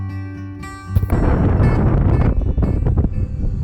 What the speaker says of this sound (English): Super windy today,